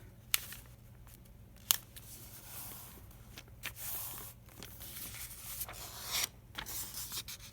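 A paper page for a budget journal folded in half and pressed down, close soft rustling and rubbing with a couple of sharp crisp creasing snaps, quiet and without speech.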